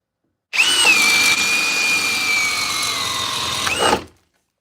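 A power drill bores through wood with a Bosch or Jorgensen paddle bit, giving one steady, loud whine of about three and a half seconds that starts sharply, holds even and spins down at the end.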